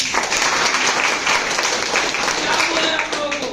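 Audience applause at a business seminar in Dumka, India, loud dense clapping from a crowd sustained throughout, with voices mixed in beneath it.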